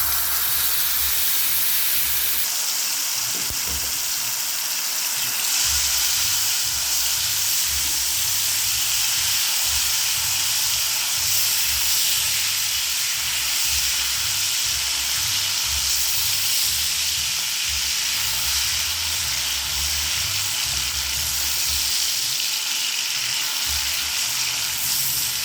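Tamarind extract hits hot oil with spices and cashews in a pan, producing a loud, steady sizzle and hiss that continues without pause for the whole stretch, with a faint stirring rumble underneath.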